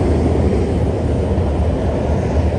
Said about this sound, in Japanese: 電車うるさい。